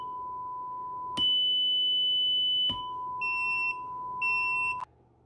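A steady 3 kHz test tone plays from a speaker, switched in and out by a CD4066 analog switch circuit. It alternates with a 1 kHz tone in clean electronic beeps, with one brief burst of higher harmonics, and no voices.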